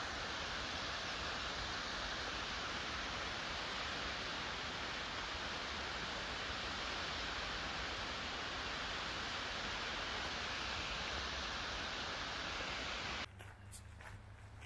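Small waterfall on the Genesee Valley Canal, a steady broadband rush of falling water running unbroken and fairly loud before cutting off abruptly near the end.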